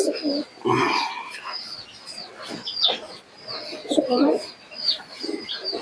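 A pair of Giribaz pigeons coo at close range in a loft, with repeated soft throaty calls in irregular bursts, some overlapping, over faint background chirps.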